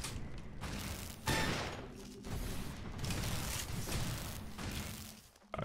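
Gunfire in the shooter Loadout, with dense rattling bursts of shots and mechanical clatter, loud and close, broken by short pauses and thumps.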